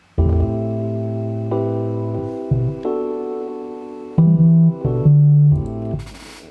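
A synth bass line steps between separate notes with abrupt changes and no sliding between pitches, played alone.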